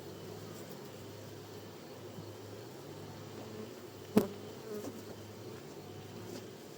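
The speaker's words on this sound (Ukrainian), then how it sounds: "Можна сказати, напівдикий рій." Honeybees from a half-wild swarm drone steadily inside an opened apiary hive, a close, even hum, with one sharp knock and a faint scrape partway through.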